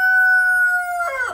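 A rooster crows once at close range, a loud sustained tonal call that rises into a ragged, breaking finish, with no other sounds around it.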